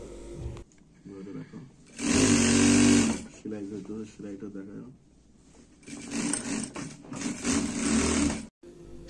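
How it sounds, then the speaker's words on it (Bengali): A tailor's sewing machine stitches panjabi garments for madrasa students in short, rapid whirring bursts, close by, alternating with someone talking. "আমি নিজেও সেলাই করতেছি"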